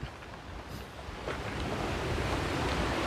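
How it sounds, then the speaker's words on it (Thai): Strong morning wind sweeps across an open outdoor field, producing a rushing, buffeting roar that batters the microphone and swells louder over a few seconds, with no voices. "ลมอะไรขนาดนี้ เช้ามาสายมาลม"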